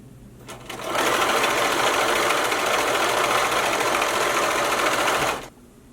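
A home sewing machine runs steadily for about five seconds, stitching a second row a quarter inch from a fresh seam on a t-shirt, a loud, even whirring hum that starts and stops abruptly.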